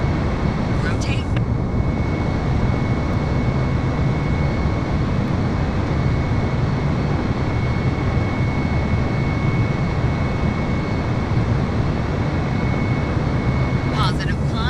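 An airliner's jet engines roar at takeoff thrust in Microsoft Flight Simulator, a loud, steady broadband rush that holds unbroken throughout, with brief faint clicks at the start and end.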